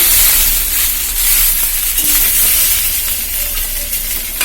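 Coriander and mint leaves sautéing in a pan for a green-leaf chutney give a steady, close sizzle with a soft hiss that runs unbroken throughout, with no talking.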